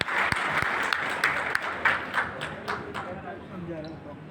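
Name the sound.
loud applause welcoming loan recipients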